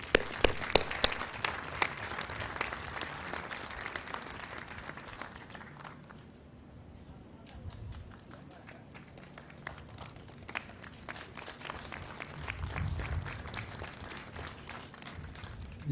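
Audience applause at a Memorial Day 2023 honoree ceremony, broad and steady clapping for the first several seconds that thins and fades into scattered claps and room noise.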